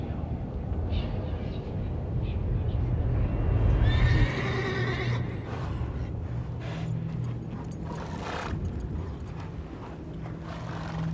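A horse in the video game The Witcher whinnies loudly in a rising, shaky neigh over a low rumbling background, followed by softer rustling and movement.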